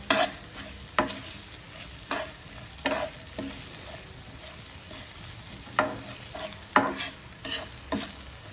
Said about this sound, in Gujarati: ડુંગળીને થોડી બ્રાઉન થાય ત્યાં સુધી શેકી લઈશું